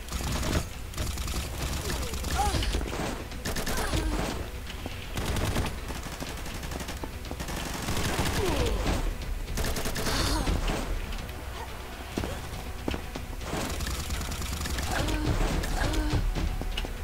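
Shotgun fire in the first-person shooter Combat Master X, sharp repeated blasts among rapid gunfire bursts and game effects, loud and near, with a voice talking in places.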